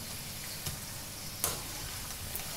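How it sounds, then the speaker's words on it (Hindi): Potato samosa deep frying in hot oil in a kadai, a continuous even hiss of bubbling oil with a few faint clinks, steady and alone at low volume. "हम इसको डीप फ्राई करेंगे, और ये हमने इसको ऑयल में डाल दिया"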